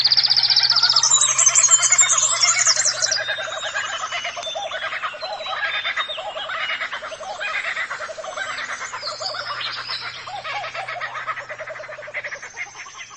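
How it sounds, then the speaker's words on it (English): A laughing kookaburra's call, a loud cackling series of rapid rising and falling notes that shift quickly in type, densely layered like several birds together, running throughout over a low steady hum with no talk. "if you've ever heard a kookaburra's call, I'll have to drop some audio of it"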